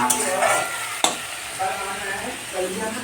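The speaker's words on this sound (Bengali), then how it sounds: "আর এই দিকেতে ডিমের কারি হবে তার জন্য মশলা ভাজা হচ্ছে" Spices fry in a smoking pan for egg curry, giving a close, steady sizzle with a sharp scrape of stirring partway through.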